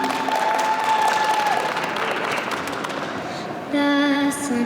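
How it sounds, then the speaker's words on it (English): Audience applause fills the room for a few seconds, a dense steady wash of clapping heard up close, with faint tones and a brief musical note rising near the end as the applause continues. "Guys, give yourself a round of applause, okay?"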